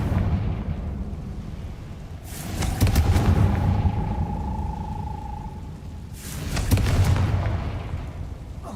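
Confringo blasting spells in Hogwarts Legacy, two booming explosions several seconds apart, each a sharp crackling burst fading into a rumble, with a thin whistling tone trailing between them.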